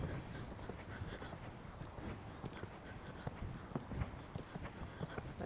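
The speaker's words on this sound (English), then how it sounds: "So Influencer is a very, very easy horse" A horse's hooves clip-clop in a steady walking rhythm on cold ground outdoors, fairly close and quiet, with no one speaking over them.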